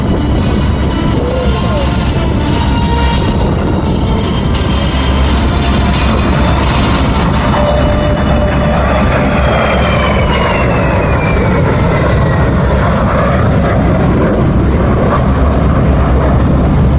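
An AV-8B Harrier jet makes a slow flyby at an air show, its engine holding a continuous heavy roar with a gently shifting whine, with a public-address voice partly audible beneath it.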